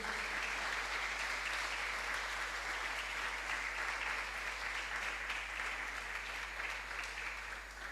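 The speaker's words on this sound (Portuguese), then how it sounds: "Você pode aplaudir ao Senhor." A church congregation applauds the Lord after a prayer, producing an even, continuous wash of many hands clapping at moderate distance that barely shifts in level from start to end.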